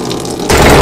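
Water gushing through a filter into an aquaponics polytank, a quieter trickle that suddenly jumps to a loud, close splashing rush halfway through.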